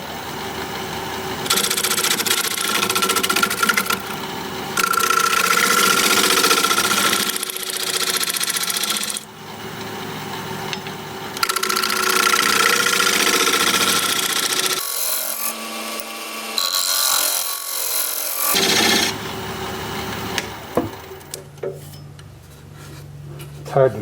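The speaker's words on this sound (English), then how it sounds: "I'm going to scrape up the side here a little bit." Wood turning on a lathe, a scraper tool shaving the side of a spinning piece of wood, producing a steady rasping, whirring scrape in long passes broken by short pauses and clatter, close and fairly loud.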